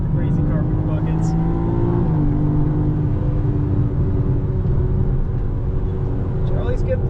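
BMW M4 Competition (2023) lapping Buttonwillow track in automatic, a steady loud engine drone with shifting pitch under ongoing cabin talk.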